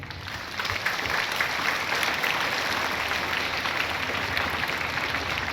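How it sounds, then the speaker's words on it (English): A school assembly gives a big round of applause to school cabinet nominees, a dense, sustained wave of clapping that rises quickly and stays loud and even throughout. "May we have a big round of applause before we begin the campaigning"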